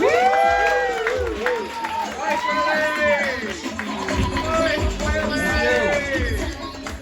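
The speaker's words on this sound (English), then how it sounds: "I want y'all to start clapping right now for my new friend in comedy" An audience at an open-mic stand-up comedy show claps and cheers for a comedian, a steady wash of crowd noise mixed with voices calling out throughout.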